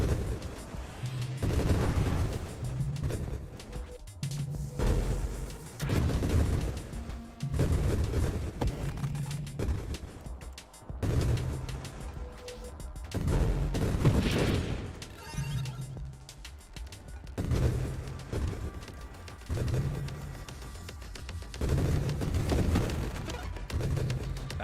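Repeated grenade blasts from the space shooter Nova Drift, a rhythmic series of punchy booms every second or two layered over a droning game soundtrack, fairly loud and steady throughout.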